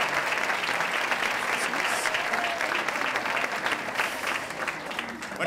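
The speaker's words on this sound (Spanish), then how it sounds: "Un aplauso." Steady applause from an audience at a 2011 festival event welcoming a presenter, dense and sustained clapping throughout with no voices standing out.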